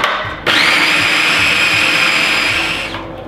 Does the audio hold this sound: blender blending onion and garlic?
yes